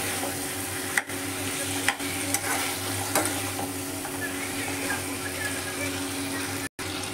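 Broken fish head pieces being stirred and fried in a pan for a masoor dal dish, a steady broadband sizzle with a few sharp scraping stirs, close and continuous with no talking.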